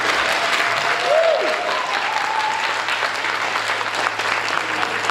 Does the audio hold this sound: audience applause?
yes